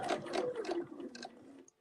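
A sewing machine stitches through a quilted winter design with rapid, even pulsing that runs steadily for under two seconds before stopping abruptly.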